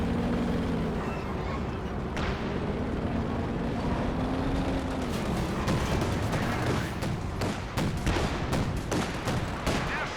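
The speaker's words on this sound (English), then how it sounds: "Pack howitzers are firing away" Pack howitzers firing in a Company of Heroes 2 battle, with repeated heavy reports and scattered crackling gunfire over a rumbling engine-like drone, busier in the second half.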